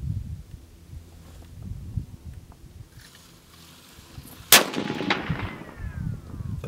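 A Savage 110 rifle chambered in .308, loaded with 168-grain Federal Gold Medal Match ammunition, fires once on a 100-yard range: a single loud, sharp crack after quiet outdoor background noise, followed by a brief fading echo.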